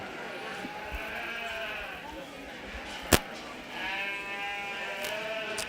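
Ewes bleat at a 4-H/FFA youth sheep show, several overlapping calls rising and falling at moderate distance over a busy hall murmur, with one sharp clack cutting through midway.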